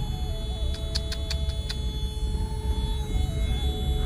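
A Gypsy 4x4 creeps slowly over black ice on a snowy mountain road, its engine a steady low hum close by, with a few short high ticks or beeps early on and no talking.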